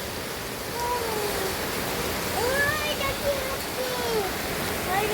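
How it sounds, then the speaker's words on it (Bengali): Rain falls steadily on a balcony garden as a continuous, even wash of hiss with no breaks, and faint bird chirps drift through it now and then. "বাগানে বৃষ্টি হচ্ছে।"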